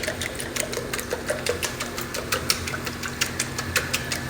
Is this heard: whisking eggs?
yes